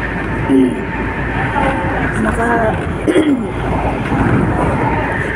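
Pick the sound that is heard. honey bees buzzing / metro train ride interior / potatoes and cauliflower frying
metro train ride interior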